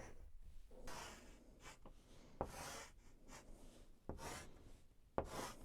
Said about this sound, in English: We're gonna draw two figures.